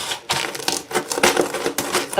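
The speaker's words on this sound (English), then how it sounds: "I'm just going to crunch those down" Ginger snap cookies are crushed by hand in a rhythmic series of loud, crisp crunches, each burst separated by brief pauses.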